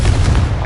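A Confringo blasting spell explodes in the Hogwarts Legacy video game on PS5, a short, loud, dense burst with heavy low-end rumble sustained through the moment.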